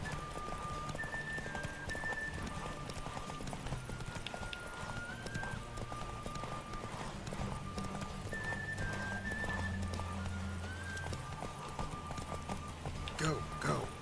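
Rhythmic hoofbeats of a horse in The Witcher 3: Wild Hunt clip-clop along with game music and people talking over them.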